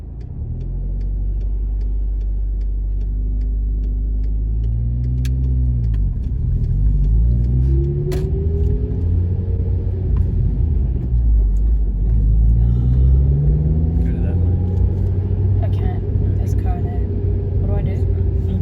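Manual car driven during a driving lesson, engine rumbling steadily close by as it rises and falls in pitch through several accelerations and gear changes, with people talking over it throughout.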